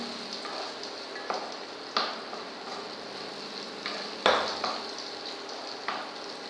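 Chopped vegetables and tomato sauteing in a pan for masala vegetable upma, a steady sizzle with several sharp stirring scrapes at irregular intervals, heard alone.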